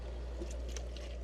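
Water flows steadily out through a boat's replacement hose above the waterline, a soft continuous trickling pour heard close and fairly quiet, with no talking.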